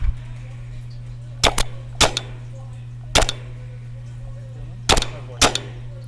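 Paintball marker shots during a large outdoor paintball game, sharp pops in pairs and singles spaced a second or so apart over a steady low hum, fairly loud and close.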